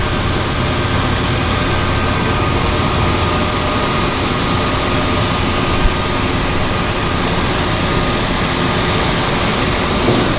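An airplane landing at Vancouver Harbour Airport fills the scene with a loud, continuous engine roar that holds steady from start to finish, close and unbroken.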